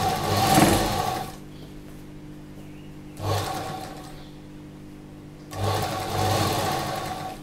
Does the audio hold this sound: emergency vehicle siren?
no